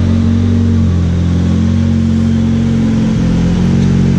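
A stock Honda Integra accelerating hard, its engine droning loud and steady with a strong low hum throughout and a brief dip in pitch near the end, as if shifting gear, with no voices.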